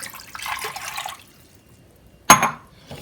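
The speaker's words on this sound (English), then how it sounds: "I'm going to pour in some water into that pot" Water is poured into a cooking pot for boiling eggplant: a close, splashing pour lasting about a second, a pause, then a short sharp splash.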